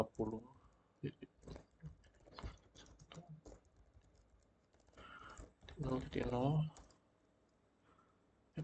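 Light key clicks from typing on a computer keyboard while configuring a router link, scattered taps under quiet talk, with a louder spoken burst near the end.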